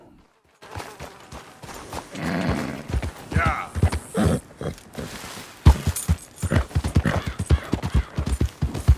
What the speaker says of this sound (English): I've been meaning to offload this big Shire horse for a while now.